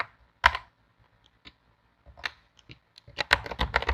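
Computer keyboard keys tapped while entering Swift code, coming as scattered bursts of clicks with a gap in the middle and then a quicker run of keystrokes, close and fairly quiet.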